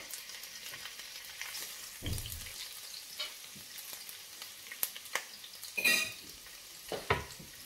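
Leftover boiled onions hit hot oil in a pan, giving a quiet, steady sizzle broken by scattered stirring scrapes and a few louder crackles and spatters.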